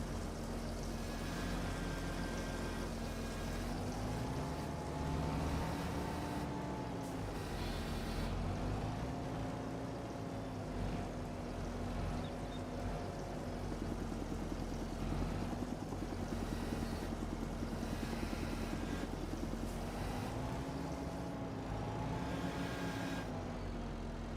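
A tractor engine in the farming video game Farming Simulator 25 drones steadily on a sheep farm, with a low rumble and a humming tone that rises and dips slightly as the load changes; continuous and without voices.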